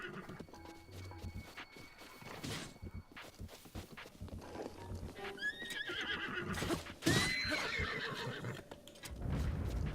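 A horse in the video game The Legend of Zelda: Breath of the Wild neighs and whinnies in several sharp bursts, with hooves clip-clopping and footsteps around them. The sounds are moderately close and come amid game background noise.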